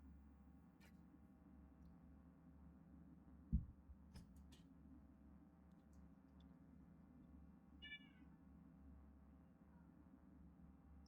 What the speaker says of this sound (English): I heard meow, meow, which means I think Ellie lost her mousie again.